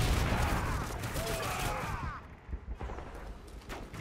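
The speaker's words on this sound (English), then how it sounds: "Someone is really shooting me." In the video game Modern Warfare 3, Spec Ops Survival on the Arkaden map, gunfire is aimed at the player: rapid bursts of shots and booms, loud at first, then sparser cracks, with voices talking faintly.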